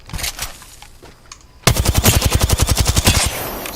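Rapid automatic gunfire from a short-range gun in a first-person shooter video game, a loud, evenly spaced burst of about twenty shots after a quieter lead-in.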